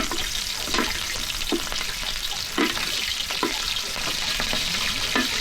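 Meat feet frying in hot oil for a Nepali festival dish, a steady loud sizzle with intermittent stirring scrapes and clatters through the clip, no voices.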